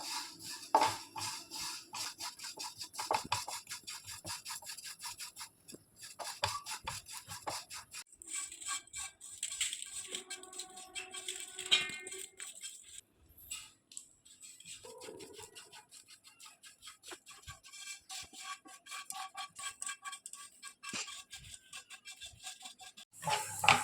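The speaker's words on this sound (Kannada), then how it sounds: "ಕಪ್ಪು ಎಳ್ಳು ಬಿಳಿ ಎಳ್ಳು ಒಟ್ಟಿಗೆ ಫ್ರೈ ಮಾಡುವ" Black and white sesame seeds fry together in a pan, giving a steady dry scratching and rustling with intermittent clinks and scrapes, close and fairly quiet throughout.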